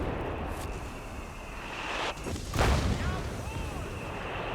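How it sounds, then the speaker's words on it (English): Artillery barrage in the real-time strategy game Company of Heroes 3, a distant rumbling blast and a louder shell impact midway through, heard faintly beneath a commentator's continuous talk and battlefield ambience. "Tommy's managed to drop some artillery down"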